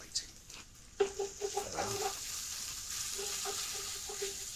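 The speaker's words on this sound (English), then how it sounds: "if you listen to the sound of the frying, it gets gentler and gentler because the water is evaporating" Onions fry in a pan with a soft, steady sizzle, punctuated early by a few clinks and stirring knocks before settling into an even, gentle crackle at low volume.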